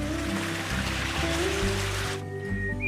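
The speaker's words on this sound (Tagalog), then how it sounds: "maririnig na natin yung lagaslas ng tubig" Babbling stream water along a walking trail through rolling hills in the Philippines, a steady close rush and trickle that continues throughout without talk.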